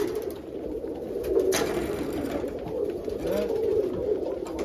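Pigeons or doves in a coop give soft, steady cooing and murmuring throughout, a continuous close flock sound with a brief scrape or bump near the middle.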